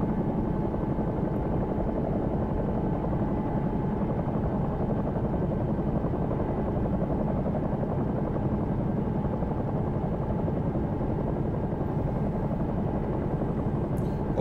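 A Bell 222 air ambulance helicopter in the X-Plane 11 flight simulator slows toward a hover, its rotor and turbine drone holding a steady, loud, continuous roar throughout with no voices.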